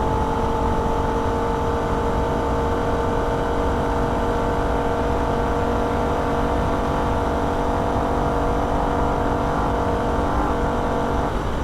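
A Holden VF Ute's engine roars steadily at full throttle near the rev limiter on the Nürburgring, a loud, constant high-revving drone heard from the cabin with no talking.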